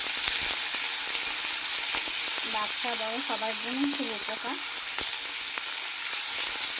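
Spinach and mixed vegetables sizzle steadily in hot oil in a pan for a vegetarian vegetable dal, with a voice talking briefly over the frying.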